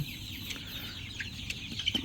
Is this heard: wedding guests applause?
no